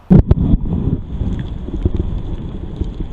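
Gusty wind and rain buffet the microphone with a steady rush in Ladysmith, broken by a few sharp knocks and thumps near the start.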